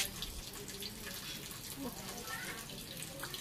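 Cold tap water gushes steadily as it is poured over muddy feet outdoors, a continuous close splashing wash with a voice talking over it.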